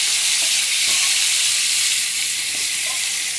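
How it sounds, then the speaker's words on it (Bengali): Cut potatoes frying in hot prawn oil give a steady, loud, broadband sizzle that holds evenly throughout, with faint stirring knocks underneath and no voices. "আলুগুলোকে আমি এই চিংড়ি মাছের তেলেই দিয়ে দেবো,"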